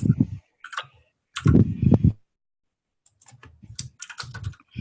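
Keys being typed on a computer keyboard during a programming lecture, brief clicks between stretches of a man's teaching speech, near and moderately loud.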